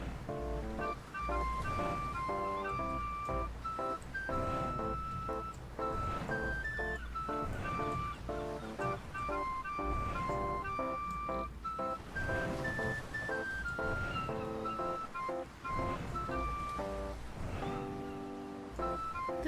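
Background music at Port Cobb, a harbour town in the video game Mabinogi, plays steadily: a melodic tune with bell-like notes over chords, mixed with a soft wave or ocean wash underneath and no speech.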